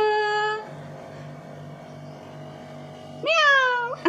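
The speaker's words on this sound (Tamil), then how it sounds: "பூனைக்குட்டி எங்க தோ, பூனைக்குட்டி எங்க தோ" A kitten meows at home, with one drawn-out meow, a pause filled by a low hum, then a second rising meow close to the mic.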